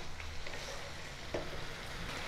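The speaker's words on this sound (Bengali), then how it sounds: "আবারও ভালো করে কষাতে থাকবো।" Potatoes with fenugreek leaves and green chilli sauté in a pan for methi aloo dum, a steady low sizzle with a faint stir scrape, quiet and close.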